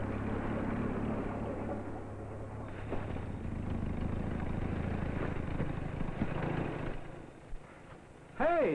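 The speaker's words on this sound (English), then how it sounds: "Hey, that's my tractor." A tractor engine runs with a steady low drone and rumble throughout, loud and fairly close, with a brief higher chirp at the very end.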